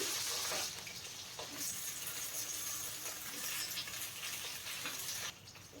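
Cut flat beans frying in hot mustard oil in a pan, a dense, steady hiss of sizzling oil heard close up, with a brief clatter near the start and no voices.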